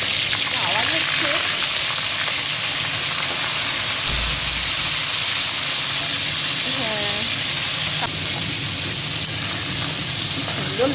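Crab frying in hot oil with ghee, a continuous dense sizzle and hiss close up and fairly loud throughout, with a person talking over it.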